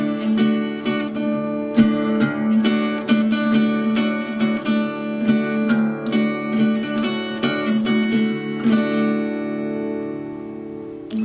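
A steel-stringed acoustic guitar plays a full-octave one chord in a Delta blues style, steady rhythmic picking with ringing sustained low notes and repeated plucked attacks, alone and close.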